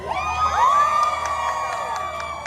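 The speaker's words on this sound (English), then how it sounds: "Wow, this is a really nice crowd" A lively crowd cheers, whoops and shrieks at a Guardians of the Galaxy dance-off show at Disneyland featuring Deadpool and Wolverine, a sustained roar of excited voices close by with high yells rising above it.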